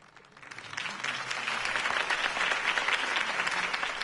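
Crowd applause in the video game Batman: The Telltale Series, Episode 1, after a campaign speech, swells up from quiet and holds as a steady, full round of clapping, slightly distant and roomy.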